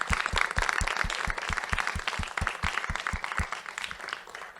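An audience in an auditorium applauds after a sociology lecture, giving steady, sustained clapping with a regular rhythmic pulse running through it.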